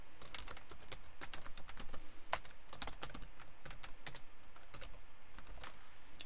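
Quiet typing on a computer keyboard, irregular clusters of light key clicks and taps spread across the whole stretch with no talking.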